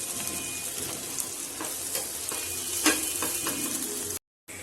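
Onions fry in mustard oil with a continuous close sizzle, broken by a few spatula scrapes and clacks. A brief gap of silence falls near the end, and no voices are heard.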